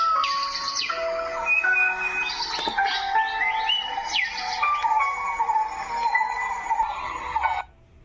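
A bright, electronic-sounding bird chirping and warbling in rapid repeated tweets, like a toy bird, continuing steadily for several seconds before cutting off abruptly.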